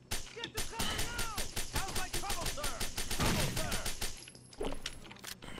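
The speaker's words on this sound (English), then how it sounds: "I got a headshot through the wall." Rapid gunfire from Rainbow Six: Vegas 2 rattles in dense bursts for about four seconds, loud and close, then breaks off into a quieter pause before a few more shots.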